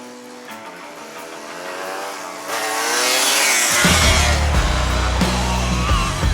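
A Yamaha DT200R two-stroke dirt bike with a newly replaced clutch starts and runs, climbing into a loud, rising rev that holds as a steady close engine roar for several seconds.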